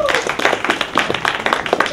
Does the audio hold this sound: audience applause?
yes